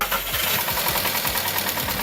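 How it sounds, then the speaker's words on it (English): Cold start of a VW engine with a failing timing chain tensioner: a loud, steady metallic rattle with rhythmic knocking over the engine's drone, close up and with no voices. "Sound number 1, the cold start rattle."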